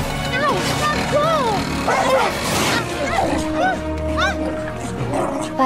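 A dog barks and yips repeatedly in quick, uneven bursts with some whimpering tones, close and loud, over busy background sound and voices.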